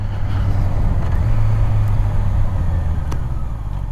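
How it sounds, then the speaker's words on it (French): Honda CBR650R motorcycle engine pulling smoothly in fourth gear from about 50 km/h, a steady loud low drone with wind noise, rising gently without surges. "j'étais à 50, quatrième, j'ouvre un petit peu, et la reprise se fait de manière vraiment très simple, il n'y a pas d'à-coup"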